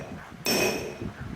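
A single hammer blow on an anvil while forging rings out sharply after a quiet moment, leaving a bright metallic tone that decays over about a second.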